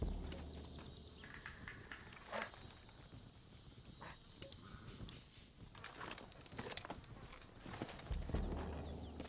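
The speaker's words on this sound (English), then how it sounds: "Looks like Carlos left us some horses." Horse hooves clip-clop in a steady walking rhythm inside the Red Dead Redemption video game, soft and somewhat distant under faint ambient game sounds.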